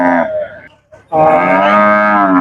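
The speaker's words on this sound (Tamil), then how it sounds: "கண்ணு மாடு ஒன்று கொண்டாந்துருக்காங்க கேட்டு பார்ப்போம்" A calf moos loudly and close by at a cattle market, one short call, a brief pause, then a longer sustained bellow.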